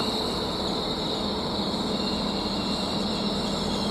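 Chiltern Railways train 196009 at Oxford station, a continuous rumbling roar with a steady high tonal whine on top, close and unvarying throughout.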